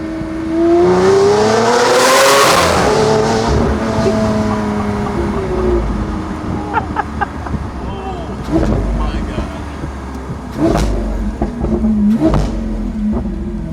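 A Lamborghini Aventador or Murcielago V12 revs hard once with a sweeping climb and fall, then gives several short sharp throttle blips, loud and close with wind buffeting the microphone.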